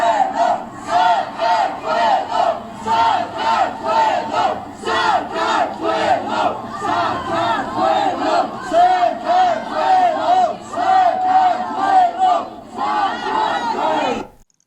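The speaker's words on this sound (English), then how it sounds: "there's thousands of people on the streets protesting right now" Thousands of protesters fill the streets of Kashuri, Georgia, chanting in loud rhythmic unison, the massed shouts rising and falling in waves close by.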